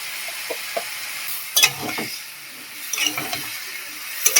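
Jackfruit seeds, pointed gourd and potato pieces stirred and frying in a pan, with soft sizzling and a few scraping clatters of a spatula, fairly close.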